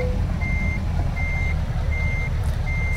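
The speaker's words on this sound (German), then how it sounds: "So ein Schiffsdieselmotor." A truck in Euro Truck Simulator 2 rumbles with a deep, steady, ship-like diesel drone while evenly spaced reversing beeps sound over it.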